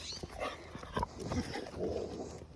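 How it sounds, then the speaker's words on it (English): A dog gives a few short barks and yelps at moderate distance, over a busy outdoor background. "Oh, a dog barking."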